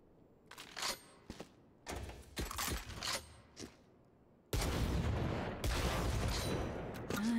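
Video game gunfire, a few scattered short bursts of shots followed by a louder, dense sustained volley of rapid fire.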